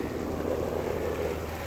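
Irrigation water gushing steadily into a vegetable garden bed with flowering patola vines, a continuous broadband rush with low rumble, no voices.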